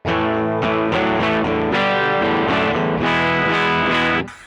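An electric guitar plays sustained chords through a Bogner Ecstasy valve amplifier on its clean channel with the bright switch on, rich and ringing, close and loud, fading out at the end.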